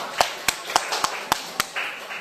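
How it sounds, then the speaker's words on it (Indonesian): Scattered handclaps from a classroom of students applauding group 2, about six sharp, separate claps at uneven intervals rather than a full rolling ovation, fairly close. "Tepuk tangan dulu untuk kelompok"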